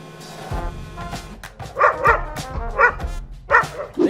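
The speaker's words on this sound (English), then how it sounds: "These dogs' barks are significantly worse than their non-existent bites." Several dogs bark in a short, loud burst of repeated woofs and yips, with a few whimpering notes, all close by and with no talk over them.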